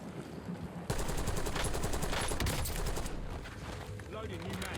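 Rapid automatic fire from a Krig rifle in the video game Warzone, a dense burst of shots starting abruptly and continuing for a few seconds before tapering, with game sounds and a voice underneath.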